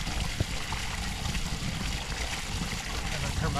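A newly built backyard pond waterfall, switched on for the first time, pours a steady, dense rush of falling and splashing water, loud and close throughout with no pauses.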